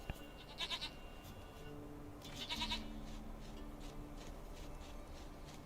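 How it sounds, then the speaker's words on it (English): A goat bleats in The Witcher 3, two short wavering bleats a couple of seconds apart over a low, steady background ambience. "Goat of mine, dearest, sweetest goat."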